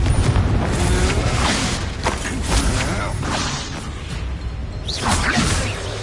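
Confringo fire spell explosions in Hogwarts Legacy combat, a dense run of whooshing blasts and booming impacts over rumbling low-end noise, with a voice shouting spell names among them.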